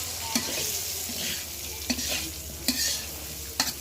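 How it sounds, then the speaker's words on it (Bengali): Hilsa fish pieces and eggplant slices frying in hot oil, a dense close sizzle punctuated by four distinct spatula clanks against the pan. "মাছ আর বেগুন ভাজছি,"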